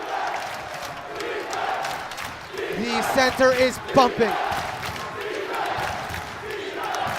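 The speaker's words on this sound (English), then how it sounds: "Crowd's about to get very loud in here" Crowd noise in a gym during a men's college basketball game, Yeshiva Macs vs. Farmingdale State Rams, a steady murmur that swells briefly with a few louder shouts and bursts, with a commentator's voice on top.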